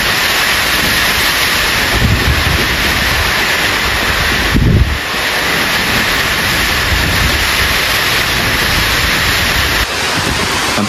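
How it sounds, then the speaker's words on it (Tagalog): Heavy rain pours and strong wind roars without a break during Typhoon Uwan, a dense, loud, steady wash with a few louder gusts buffeting the microphone. No one speaks. "Grabe pa rin po ang lakas ng ulan at hangin."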